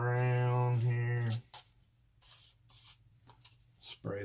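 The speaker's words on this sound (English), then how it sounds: "Spray this down a little bit." A spray bottle spritzes water onto a canvas for an acrylic painting, a brief hissing burst near the start that gives way to soft rubbing and quiet handling, with talk at the start and near the end.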